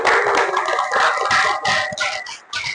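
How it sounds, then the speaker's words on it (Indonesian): A classroom of students applauds together, dense overlapping hand claps sustained for a few seconds, close and lively. "Mari kita tepuk tangan dulu semuanya."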